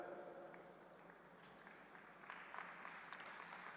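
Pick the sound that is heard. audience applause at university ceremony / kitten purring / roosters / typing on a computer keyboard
audience applause at university ceremony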